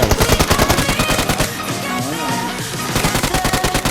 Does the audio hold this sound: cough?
no